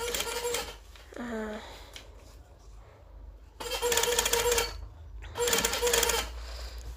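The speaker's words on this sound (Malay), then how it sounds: "Okay, so kita jahit ya, keliling mengikut bentuk ni lah." A sewing machine stitches around a kurta collar in two short bursts of fast, rattling mechanical chatter, separated by quieter pauses, close and fairly loud.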